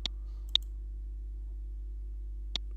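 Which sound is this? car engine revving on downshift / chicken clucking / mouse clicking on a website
mouse clicking on a website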